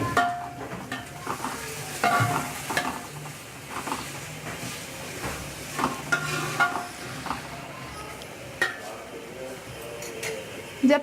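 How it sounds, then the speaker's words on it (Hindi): Onions fry in hot ghee in a pot, giving a steady sizzle broken by stirring scrapes and occasional clinks of a utensil against the metal. "जब प्याज फ्राई हो जाएगा"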